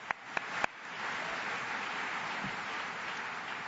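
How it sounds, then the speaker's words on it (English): Conference audience applauding at a national volunteer gathering, a soft, steady wash of distant clapping following a few sharp close claps at the start. "we have to give them a round of applause as well"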